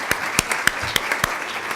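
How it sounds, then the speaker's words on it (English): A conference audience at a nursing informatics research event gives brief, sparse applause, a handful of distinct claps spaced out over a low background murmur. "So I just want to do a round of applause for"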